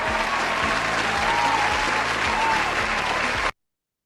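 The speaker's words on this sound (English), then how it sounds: "With a resounding applause and digital ovation, please make welcome Dr. Joy Issa to the TTT Summit 2024." An audience at a Teacher's Day summit claps in sustained applause, steady and dense, which cuts off abruptly into silence.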